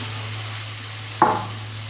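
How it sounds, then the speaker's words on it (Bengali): Coconut chops deep frying in oil, a close, steady bubbling hiss with one sharp clink partway through and no voices. "বাকিগুলো ওইভাবে দিয়ে দেবো, দিয়ে লাল লাল করে ভেজে নেব।"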